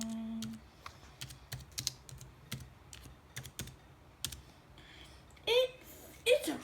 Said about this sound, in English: It's a pretty nice keyboard